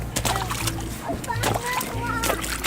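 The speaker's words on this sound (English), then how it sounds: "Whoa, look at him splashing." Children splash and stomp in an outdoor puddle, with irregular wet splatters mixed with kids' voices and adult chatter throughout.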